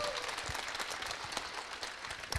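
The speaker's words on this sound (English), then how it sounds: "give a huge round of applause to Santeri to get all of these amazing partners here" Audience applause at an award ceremony, a steady wash of clapping from a crowd for about two seconds, moderately loud throughout with a few sharper claps near the end.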